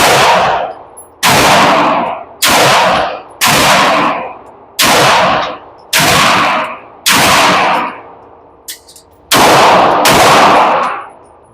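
A Sig P320 Spectre Comp pistol fires about eight loud, sharp shots at a steady, spaced pace on an outdoor range, each crack followed by a short decaying echo.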